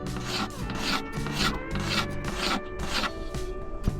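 A scraper blade rasps varnish off sailboat woodwork in quick, regular strokes, about two per second. The scraping is close and loud with no talk.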